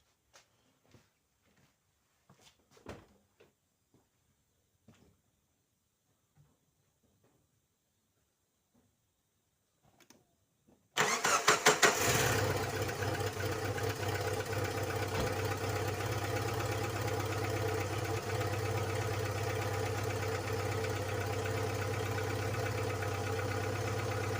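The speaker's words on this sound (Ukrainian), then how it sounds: "І пробуємо запускати автомобіль." After a stretch of near silence with a few faint clicks, the 1.6-litre petrol engine of a 2007 Chery Amulet cranks and catches after spark plug replacement, then settles into a loud, steady idle that continues to the end.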